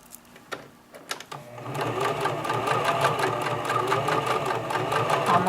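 A sewing machine stitches a specialty pocket: a few soft clicks, then a steady, close-up mechanical whir with fast rhythmic needle ticking that continues to the end.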